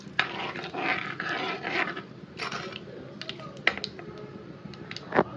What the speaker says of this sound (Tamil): இது நல்லா பொரிஞ்சிட்ருக்கு பாருங்கள்